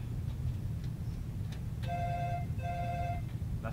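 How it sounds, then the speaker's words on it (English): A telephone rings in two clear electronic bursts against a low steady background hum, coming through during a live tech stream. "That is a phone."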